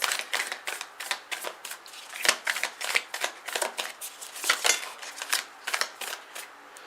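Tarot cards riffled and shuffled by hand in a quick, irregular string of crisp papery flicks and slaps, close and fairly quiet, with no talking.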